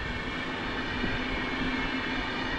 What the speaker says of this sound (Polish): To pociąg Berlin-Warszawa Ekspres na skróconej trasie.